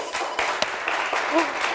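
A Turkish game show studio audience breaks into brief applause, its quick claps running under a host's voice and other studio sounds.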